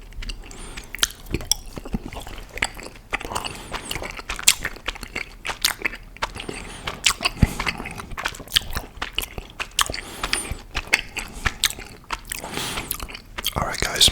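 Soft red Wily Wallaby fruit-twist licorice being bitten and chewed close to the mic, with irregular moist smacks and soft crunchy bites alongside quiet whispered talk.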